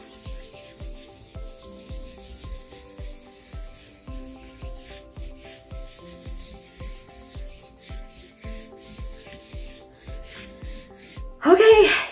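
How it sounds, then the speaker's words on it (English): A knuckle rubs over folded paper for a squish print, producing a steady series of soft, evenly spaced rubbing strokes under quiet background music, ending with a short louder burst. "Folding it in half and knuckle rub."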